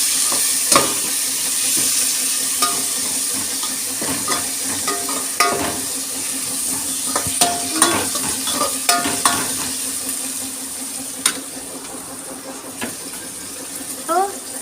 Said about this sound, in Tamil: அது இது கொஞ்சம் தக்காளி வதங்கணும்